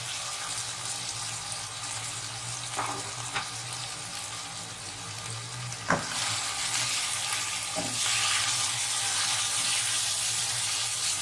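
Mutton liver pieces drop into hot frying masala with a continuous loud sizzle and crackle, broken by a few sharp clinks of a utensil, and the frying swells louder near the end.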